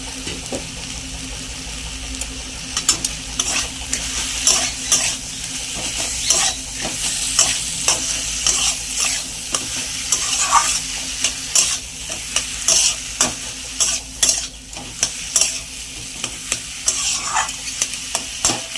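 Kochur ful is stir-fried with salt and green chillies in a hot pan, giving a steady sizzle broken by frequent sharp scraping strokes of the spatula for nearly twenty seconds, with no talking.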